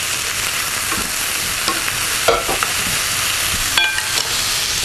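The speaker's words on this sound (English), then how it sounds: "Got the onion sauteing." Onion sautéing in a pan for turkey chowder gives a loud, dense frying hiss, with a handful of spoon scrapes and light metallic clinks scattered through it, heard close with no voices.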